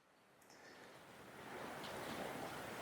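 Wind blows across a beach in Daytona as a faint, steady rushing roar that swells slightly and mixes with distant surf, with no talking.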